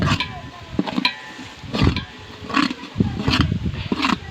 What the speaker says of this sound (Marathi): खोबरं एकत्र चांगलं भाजून घ्यावं मिक्स करून